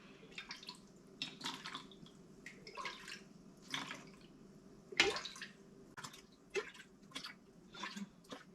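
Liquid vitamin C mixture ladled into a plastic Tupperware container, heard as a run of soft drips, splashes and trickles with a few sharper clinks, close and fairly quiet.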